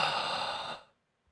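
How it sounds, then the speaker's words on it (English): A single close, breathy exhale like a heavy sigh, lasting under a second before trailing into silence. "I'm just fucking breathing."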